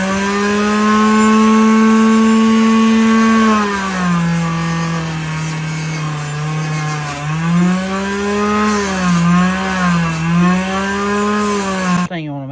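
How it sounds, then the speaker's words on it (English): A motorized fiber wheel cleans up a pocketknife spring, its loud, close whine sliding down and wavering in pitch as the metal is pressed against the wheel, then stopping abruptly. "we're gonna clean up this spring on this fiber wheel right here."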